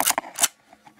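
Kodak Instamatic X-15 camera shutter, two quick close mechanical clicks in rapid succession followed by faint handling noise.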